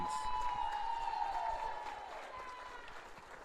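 Applause rises from the crowd at a college volleyball senior night, a steady wash of clapping with a few cheers, mixed under a held tone and slowly fading toward the end.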